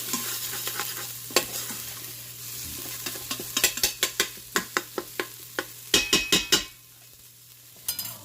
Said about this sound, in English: I'm just going to add a little bit of fresh chopped garlic, not much.